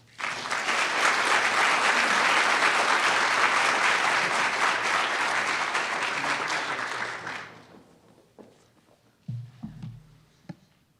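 An auditorium audience at a university defense symposium applauds to welcome a speaker, loud dense clapping sustained for about seven seconds before fading, followed by faint thumps and small handling noises.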